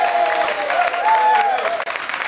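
Studio audience applauding at a live radio show, a steady broadband wash of clapping with a faint tonal whistle or feedback line running beneath it throughout.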